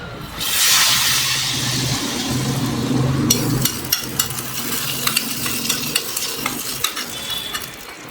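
Cornflour and chili powder mixture poured into hot oil in a home kitchen, hissing loudly at first, then a steady sizzle with a run of sharp scraping stirring clicks close by.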